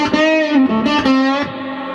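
A guitar played through the dirty channel of a stock Peavey Classic 30 amp gives a brief, loud, distorted run of sustained overdriven notes that slide and bend, then fade.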